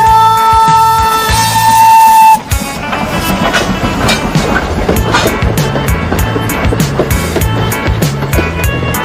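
A train runs on its rails with a steady, rhythmic clattering that continues without a break after a short sustained musical tone at the start.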